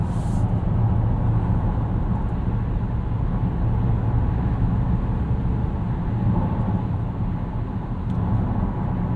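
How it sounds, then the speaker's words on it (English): Inside a 2017 Volvo XC90 T6 AWD Inscription at highway speed, a steady low rumble of tire and road noise fills the cabin, constant and moderately loud, with no voices. "There's a little bit of road noise, but it's not terrible."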